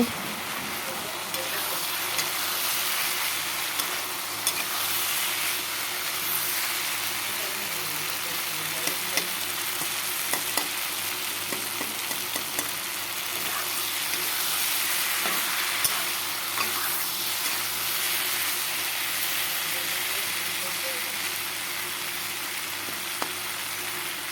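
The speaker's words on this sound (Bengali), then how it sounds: "দেখো এখানে ভাজাটা লাল হয়ে গেল আরও কিছু সময় ভেজে নেব এখন পেঁয়াজ আর লঙ্কা দিয়ে দিলাম ভাজার সাথে" Vegetables such as potato and eggplant fry in a pan with soybeans, onion and chili, giving a continuous sizzle with scattered stirring clicks at moderate level.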